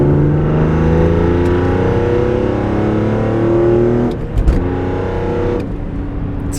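BMW E46 M3 engine fitted with a CSL carbon airbox, revving loudly up close with a rich, rising and falling induction roar, briefly dipping near the end.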